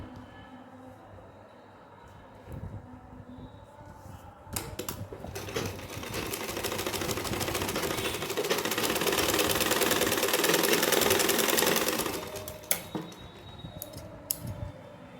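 A sewing machine stitches a sleeveless kurta in a sustained burst of rapid rattling clatter that swells and then stops, surrounded by softer handling noises and a few clicks.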